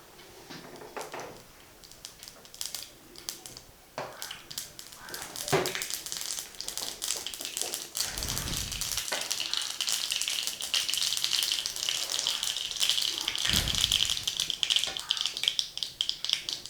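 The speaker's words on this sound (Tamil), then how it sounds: "கடுகு வெடிக்கட்டும்" Mustard seeds crackle and pop in hot oil, a steady sizzle with scattered sharp spits that builds in intensity, with a couple of louder thumps.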